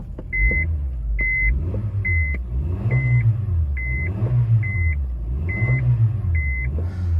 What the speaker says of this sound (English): while in reverse I can rev and I get no drive